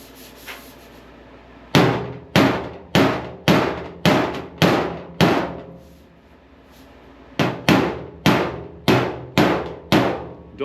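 Sharp, evenly spaced body-hammer blows ringing on the sheet metal of a 1946 Ford hood under repair, a run of eight strikes, a pause, then seven more, loud and close.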